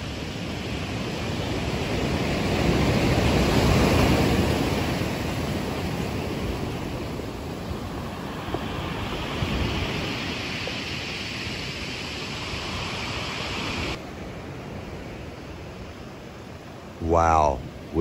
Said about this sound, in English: these beautiful sounds of the ocean and these gorgeous views of the waves rolling up onto the shore